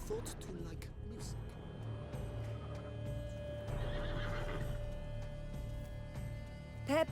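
A unicorn in The Witcher 3 whinnies among game sounds, with hoof clip-clop and background music or ambience running under it and a final high whinny at the end.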